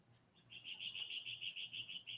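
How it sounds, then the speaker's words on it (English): Faint outdoor chirping in a rapid, evenly pulsed series of high notes, repeating steadily over quiet background with a soft low hum. "I hear birds."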